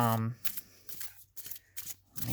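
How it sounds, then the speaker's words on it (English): A deck of tarot cards from a Myths and Legends deck shuffled by hand, giving several short papery riffling bursts separated by brief pauses, close and moderately loud. "It's not the greatest shuffle."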